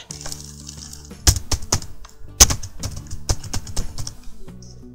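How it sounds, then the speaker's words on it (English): Someone types on a computer keyboard at close range, an irregular patter of key clicks with a few louder strikes and a low steady hum behind. "then type in the new password"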